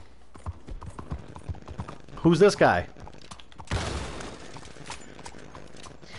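Horse hooves clip-clop in Red Dead Online, a short burst of hoofbeats mixed with game noise and a loud clattering crash, while someone talks over it.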